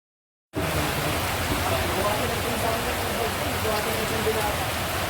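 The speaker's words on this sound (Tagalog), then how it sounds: "Umuulan, alauna." Steady rain pours down on a mountain trail after a brief silence, a dense even hiss with a low rumble underneath, constant and close throughout.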